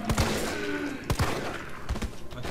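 Pistol shots fired at a zombie in the video game Resident Evil 3 Raccoon City demo, three sharp close reports spaced about a second apart over a low game ambience.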